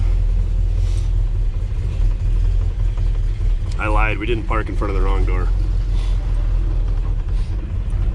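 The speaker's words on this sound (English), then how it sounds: "Exhaust sounds good, huh?" A hot rod pickup truck's exhaust rumbles steadily and loudly on its first drive, a deep constant drone throughout, with someone briefly talking over it.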